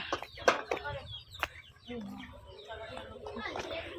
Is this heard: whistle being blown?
no